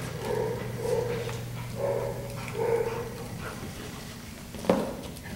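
A dog playing tug with a leash, giving repeated short whimpers and whiny yips in a rough rhythm, close and moderately loud, ending with a sharper sound.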